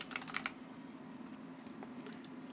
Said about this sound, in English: So we're just going to type this in